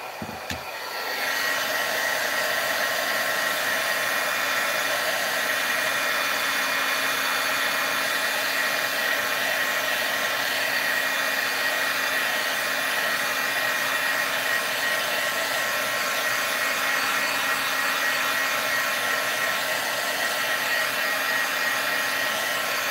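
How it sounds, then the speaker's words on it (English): A crafting heat tool blows steadily to dry freshly stamped ink on cards, a loud continuous whirring hiss that starts after a brief click and holds unbroken to the end. "I'm just going to hit this with my heat tool real quick"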